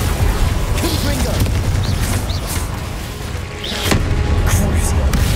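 Confringo fire spells bursting in Hogwarts Legacy combat, a dense run of loud blasts and crackles over a constant roar of game effects, with brief chirpy spell sounds scattered throughout and a short dip in the middle.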